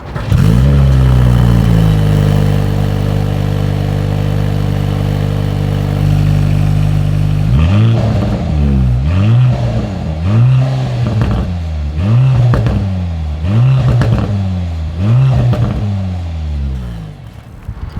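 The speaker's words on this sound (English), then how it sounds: "As always, here is that exhaust clip." A 2025 Mercedes-AMG C 43's exhaust idles with a deep steady rumble, then revs repeatedly in rising and falling bursts, loud and close.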